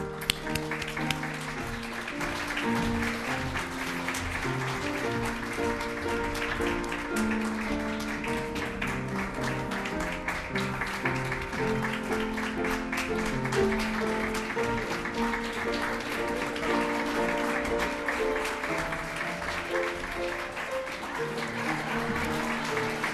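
A crowd gives a final round of applause for the models at a fashion show, with steady clapping sustained throughout and music playing underneath.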